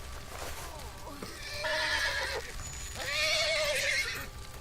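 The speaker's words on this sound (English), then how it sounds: "And the horse goes crazy." A horse in The Walking Dead: The Final Season video game whinnies loudly twice in agitated bursts, with hoof clatter and game sounds underneath.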